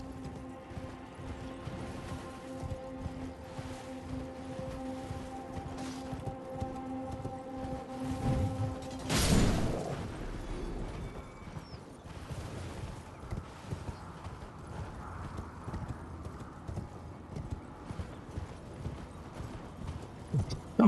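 A horse gallops in the Elden Ring video game, its hooves clip-clopping in a quick, steady rhythm throughout, with a brief louder whoosh partway through and no talking.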